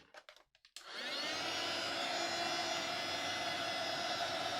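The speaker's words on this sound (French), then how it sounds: "je tiens le heat gun un peu haut pour éviter de faire bouger trop l'encre." A heat gun held fairly high blows a steady, loud whooshing roar to dry wet brush marker ink and glitter on paper, starting after a few brief taps and then running continuously.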